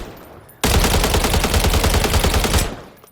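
Sustained full-auto burst from a CZ BREN 805 rifle in Call of Duty: Modern Warfare III, a loud, dense rattle of rapid shots lasting about two seconds, close and alone.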